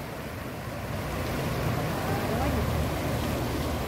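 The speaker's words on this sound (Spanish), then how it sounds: "Este fue el arroyo, el río que se desbordó el día de hoy." A river that overflowed its banks after a flood rushes past as a steady, broad roar of water, loud and continuous throughout, growing slightly stronger midway, with no talk over it.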